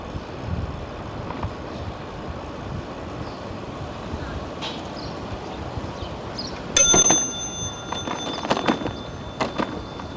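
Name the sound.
bicycle bell ringing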